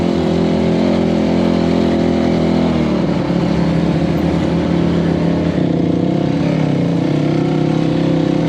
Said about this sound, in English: You can just putt through stuff in first gear on this thing.